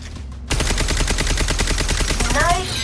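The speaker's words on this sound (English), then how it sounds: "Take aim and shoot out the target." Rapid gunfire at a target in the Concord game on PS5 cuts in after a brief quiet start, a dense steady burst of shots that continues to the end.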